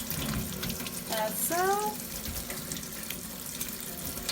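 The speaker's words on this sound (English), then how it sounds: "Turn on the water with cold water and just stir up the noodles" Cold tap water runs steadily from a kitchen faucet over cooked macaroni noodles being stirred in a sink, a continuous close hiss with a brief voice and a faint squeak partway through.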